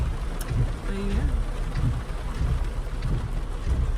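Rain falls steadily outdoors in Los Angeles, a continuous close wash of noise with low rumbling beneath, and a brief faint tonal sound partway through.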